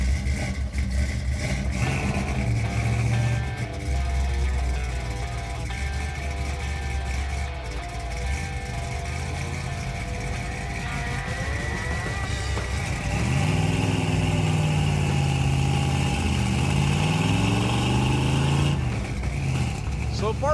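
A Chevrolet El Camino with a wheel hop problem, heard from the cabin, runs its V8 at a steady mid pitch, then revs up and pulls away under load. Someone talks over the engine throughout.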